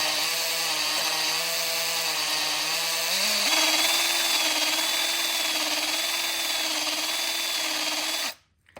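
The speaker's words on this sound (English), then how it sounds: "attach this to a drill, and then just take it to the cylinder here, work it up and down" A drill spinning a cylinder hone whines steadily at close range while it works up and down inside an engine cylinder of a Hyundai/Kia 1.6 Gamma engine, its pitch stepping up partway through, then cutting off abruptly at the end.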